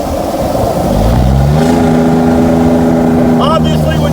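A car engine running without a muffler revs up hard and loud, the raw exhaust note rising in pitch as it accelerates, then holding a steady droning tone.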